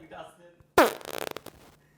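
A voice makes a loud, abrupt wet fart imitation with his mouth, sputtering into a quick series of short pulses before trailing off, with faint talk just before it in a casual podcast chat.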